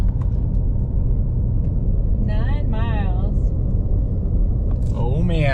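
A big 6.2 liter V8 truck engine driving on pavement, a steady loud low rumble throughout, with brief tonal whines and faint voices over it near the end.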